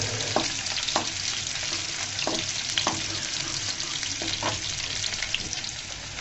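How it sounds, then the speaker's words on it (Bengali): Onions lightly frying in a pan for a palong shaak (spinach) dish, a steady bright sizzle with occasional soft scrapes and clicks of stirring, close and continuous with no talk. "পেঁয়াজগুলোকে আমি হালকা করে ভেজে নিয়ে"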